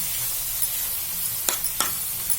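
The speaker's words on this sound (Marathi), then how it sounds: "1-2 मिनिटं परतून घ्यायचा कांदा, म्हणजे तो त्या बटरवर चांगला भाजला जातो." Chopped onion sizzles in butter in a pan for Bombay pav bhaji, a steady close hiss broken by a couple of quick scraping stirs.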